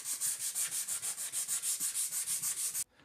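Sanding a primed wooden bathtub panel: about fifteen quick, even back-and-forth rubbing strokes, close and steady, that stop abruptly near the end.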